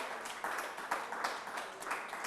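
Faint, distant applause from a pageant audience for the Calabrian contestants at a Miss Sorriso beauty contest, a steady patter of many hands with a soft voice underneath.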